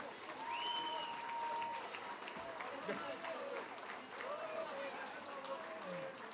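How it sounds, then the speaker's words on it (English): A crowd at the UKFC 24 fight event applauds the two fighters after their bout, giving steady clapping and some cheering under an announcer's amplified voice. "Let's give these two fighters a big round of applause, please."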